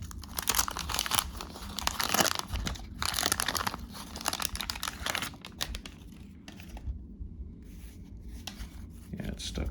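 A 1987 Topps wax baseball card pack is torn open and handled up close, with crinkling wax paper, tearing and rustling in an uneven stream and a person speaking quietly at times.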